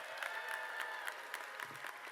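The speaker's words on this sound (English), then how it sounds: "Can we have another round of applause for the class of 2024?" Applause from the audience for the graduating class of 2024 at a diploma ceremony, a fairly faint, steady wash of clapping from a crowd heard from a distance.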